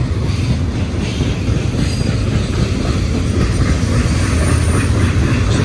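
At daybreak, a train with distributed power locomotives working rumbles past at Blue Cut, a loud, continuous roar of engines and rolling wheels with faint clatter, no voices.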